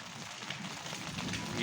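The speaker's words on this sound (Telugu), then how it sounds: "సుమారు గంట సేపు దంచి కొట్టిన వాన ఇప్పటికి కానీ శాంతించలేదు" Heavy, unseasonal rain pours down over farmland in a steady, dense hiss that holds unbroken through the short stretch.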